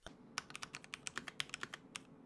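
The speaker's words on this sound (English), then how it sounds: "I'm using the Melgeek Mojo 68 mechanical keyboard." Crisp clicks of typing on a Melgeek Mojo 68 mechanical keyboard, about a dozen quick keystrokes in an uneven rhythm, close and clear with no talking.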